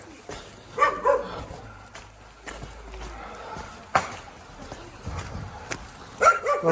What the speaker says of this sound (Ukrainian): Маємо такого злого пса і він все охороняє.